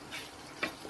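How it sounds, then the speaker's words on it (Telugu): A spoon stirs garlic chili powder into tomato chutney cooking in a pan, a faint soft scraping with light sizzle and one small clink, close and quiet with no voices. "వెల్లుల్లి కారం మొత్తం వేసేద్దాం. వేసి దీంట్లో కలుపుకోవాలి,"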